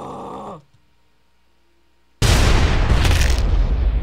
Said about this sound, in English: Sonic bacon explosion.